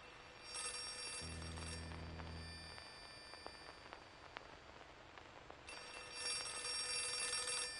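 Telephone ringing in the horror video game Outlast 2, two bright ringing bursts separated by a quieter stretch of low ambient game noise.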